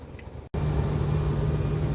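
A heavy truck hauling stone rolls out of a rock quarry, its low diesel drone loud and steady after a brief cut, with rumbling road noise throughout.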